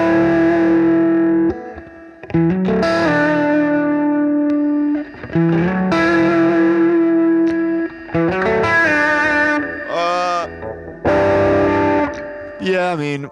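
An electric guitar played through a Safari Pedals Silver Llama or Twin Panda amp sim with distortion in front, loud sustained chords and riffs with bright, harsh overdrive and short pauses between phrases.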